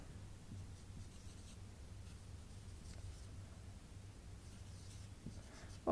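Writing on a board during a maths lecture on real numbers: a faint, steady scratching and rubbing of strokes throughout, quiet and continuous, with a louder bump right at the end.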